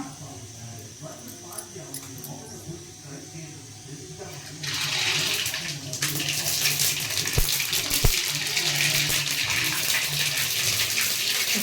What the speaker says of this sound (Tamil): எண்ணெய் காஞ்சிருச்சு இப்போ நம்ம கடுகு போட்டுக்கலாம்